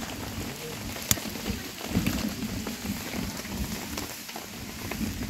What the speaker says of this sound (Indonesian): Wow, hujannya makin besar.